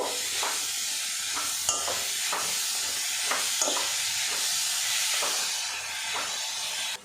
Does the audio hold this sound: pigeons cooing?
no